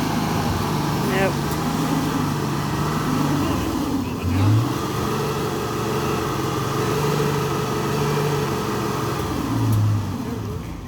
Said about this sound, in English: It's just spinning right there on that. Spinning deeper.